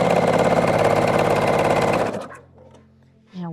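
Sewing machine stitching quilt pieces at a 2.0 stitch length: a loud, fast, steady mechanical whirr that runs for about two seconds, stops abruptly, and is followed by a few quiet handling sounds.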